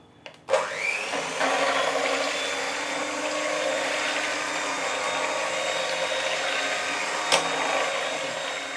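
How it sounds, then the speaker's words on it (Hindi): A hand blender whirs steadily while blending cooked lentils for mutton khichda, starting with a thump and then running as a continuous close, loud motor drone with a brief knock near the end. "हम इसे ये हैंडी मिक्स की मदद से करेंगे।"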